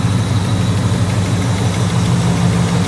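A 1986 Chevrolet Monte Carlo SS with a 305 V8 and 4-speed automatic idles steadily up close, a loud, even low rumble with a faint high whine running throughout.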